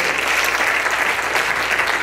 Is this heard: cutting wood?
no